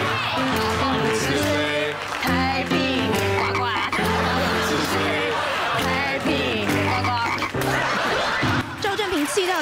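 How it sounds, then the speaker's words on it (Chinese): A toad croaks repeatedly and loudly, the croaks mixed into a busy layer of music and voices from a Taiwanese TV entertainment news segment. "一只蛤蟆，一张嘴，两个眼睛，四条腿，乒乓乒乓跳下"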